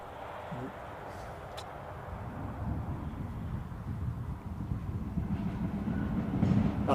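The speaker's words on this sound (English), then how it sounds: "That's just the early warning sound of a train." A train passes near an airport, its rumble and rail clatter building steadily louder toward the end, with a brief tonal warning sound near the start and wind buffeting the microphone.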